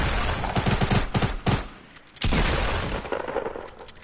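Video game gunfire, a burst of loud, close rapid shots that stops briefly and then resumes as a heavy continuous volley.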